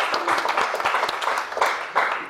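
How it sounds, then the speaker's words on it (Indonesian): An audience claps for Ivan Gunawan at a stand-up comedy roast show, a dense, continuous burst of applause from many hands, loud and filling the room with no clear speech on top. "Tepuk tangan dulu dong buat Ivan Gunawan."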